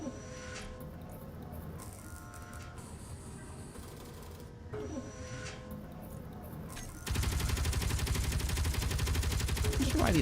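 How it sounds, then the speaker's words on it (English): Artillery fires in the Space Engineers video game: several sharp, heavy blasts come at intervals, then a dense, louder sustained roar of fire builds toward the end. "It's gonna get loud. The artillery is now loaded."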